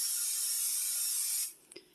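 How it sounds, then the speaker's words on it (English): Cooking spray hisses steadily from a can onto a frying pan for about a second and a half, then cuts off, followed by a couple of faint clicks nearby. "I'm going to spray the frying pan once again"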